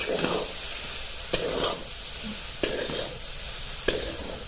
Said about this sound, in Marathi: पुन्हा एकदा हलवून द्यायचे